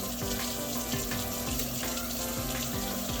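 A pot of plain water with elbow noodles boils on a kitchen stove, giving a steady, dense bubbling rush with a faint repeating tick underneath, continuous throughout.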